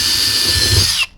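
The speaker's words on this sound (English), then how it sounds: "We just need to re-drill these little holes" Power drill re-drilling small epoxy-sealed bolt holes in a wooden lugger boat at a boatyard, a loud close continuous high whine that cuts off abruptly after about a second.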